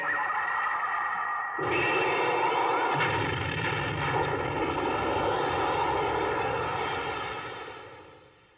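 A big fire-spell explosion in a dubbed anime roars as a sustained, loud, rumbling blast with a deep booming onset that swells, echoes and slowly fades out at the end.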